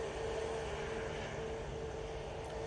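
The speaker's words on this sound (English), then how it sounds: "which is the EasyJet A320 Neo, going off to Athens now" An EasyJet A320neo bound for Athens roars down the runway at Manchester Airport, a steady broadband jet rumble with a faint tonal whine, heard alone.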